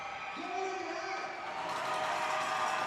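Fans in a hockey arena at a Danbury Hat Tricks versus Binghamton Black Bears game applaud and cheer, a steady wash of crowd noise that swells slightly toward the end, with a faint voice over it.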